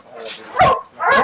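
Dogs and puppies at a home-breeding kennel in Howrah, West Bengal, give sharp, close barks and yips in short bursts, two loud ones following a softer whine.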